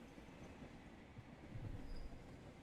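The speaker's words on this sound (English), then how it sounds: "A trolley is barreling down it in your direction" A trolley rolls along a railway track in the video game Trolley Problem Inc, a steady low rumble of wheels on rails that swells louder toward the end as it draws closer.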